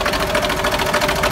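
A worn engine in a big, heavy old camper truck idles steadily nearby, giving a continuous rough, slightly knocking rumble with a faint rhythmic pulse and no talk.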